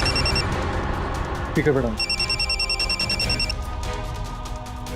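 A phone rings indoors with a repeating electronic ringtone pattern, loud and close, while a voice speaks briefly over it.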